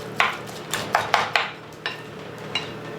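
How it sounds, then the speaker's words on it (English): Spoon or utensil clacking against a bowl while mixing scotch egg meat mixture, a series of sharp knocks and scrapes spaced irregularly over steady low background hum, close and fairly clear, no talking. "So I'm just going to mix that really well."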